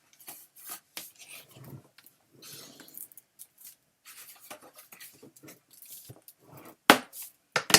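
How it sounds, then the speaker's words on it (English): Glued paper being burnished down by hand on a paper-craft folio, a series of soft dry rubbing and rasping strokes, close and intermittent, with a couple of sharper scrapes near the end. "just burnish that down"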